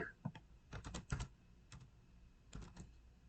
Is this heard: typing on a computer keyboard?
yes